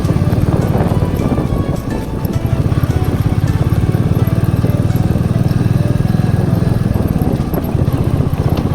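A motorcycle engine drones loud and close throughout, its steady rumble jostled by bumps and rattles as it rides over a rough, stone-strewn, potholed road.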